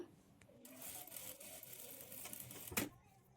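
Sewing machine stitching the back part of a work blouse, a quiet run of rapid needle clatter lasting a couple of seconds, ending in a brief sharp knock.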